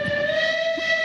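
A steam locomotive whistle of an SR Merchant Navy Class engine sounds one steady, loud, sustained blast made of several stacked tones, lasting about a second with nothing else heard.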